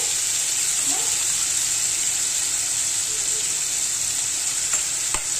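Ground spices (coriander powder, turmeric and red chilli) sizzle steadily in hot oil for a Kolhapuri misal, with a constant close frying hiss and faint scrapes from stirring.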